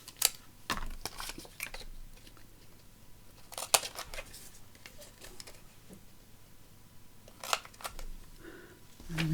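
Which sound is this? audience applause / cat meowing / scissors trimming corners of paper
scissors trimming corners of paper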